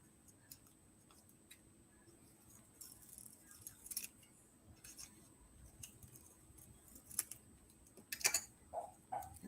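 Scissors cut paper during an art session, making faint, scattered snips and small clicks over a quiet background. A few sharper cuts come near the end.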